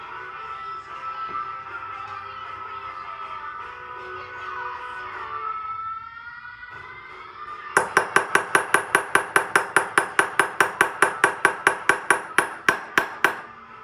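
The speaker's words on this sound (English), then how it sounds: "I need a hammer." Rapid metallic hammer strikes ring out in a steady series of about twenty sharp blows on a sterling silver ring set in a swage block, preceded by quieter workshop shuffling and scraping.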